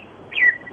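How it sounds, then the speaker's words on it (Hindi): A single short bird chirp rises briefly in the background of a phone call, fairly faint and isolated, with no talking over it. "पीछे चिड़िया बोल रही है आपकी"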